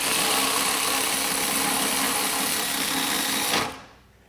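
A Milwaukee M12 FUEL high speed cordless ratchet spins with a dense, steady mechanical whir for about three and a half seconds, close and loud, then winds down and stops.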